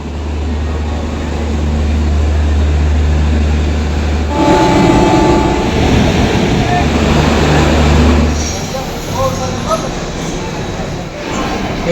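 A moving passenger train on the Howrah to Mumbai mail route rumbles steadily close by, with a loud low drone, a surge of clattering wheel noise midway and brief tonal squeals.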